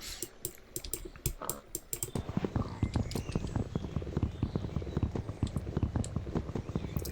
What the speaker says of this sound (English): I apologise for the length of time it takes to cut through wood with a flint hatchet